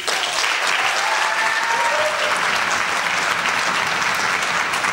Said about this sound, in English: One more round of applause for the 7th and 8th grade orchestra